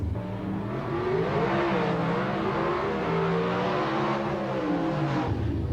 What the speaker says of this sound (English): Look at that little car go, the Gemini, straight through.